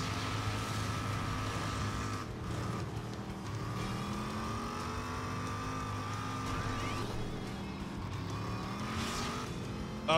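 An upgraded car engine in the video game Rage roars steadily throughout, with sustained revving and shifting engine tones as the vehicle drives fast.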